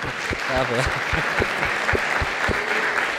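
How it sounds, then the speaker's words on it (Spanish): Applause from an audience, a short burst of clapping with a voice speaking over it. "lo primero es un aplauso para al compañero"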